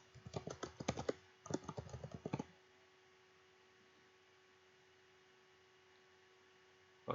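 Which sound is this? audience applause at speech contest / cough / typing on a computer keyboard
typing on a computer keyboard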